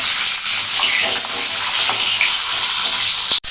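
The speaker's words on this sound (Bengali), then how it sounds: "এটা আমি দুটো ব্যাচে ভেজে নেবো।" Pointed gourds (potol) sizzle in hot oil, a loud, close, steady crackling hiss broken by a brief clatter near the end.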